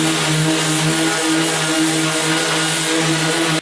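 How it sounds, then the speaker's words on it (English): An orbital sander runs continuously and loudly up close on an oil-based painted wall, giving a steady buzzing drone with a stable hum throughout. "If we use the orbital sander, so much easier."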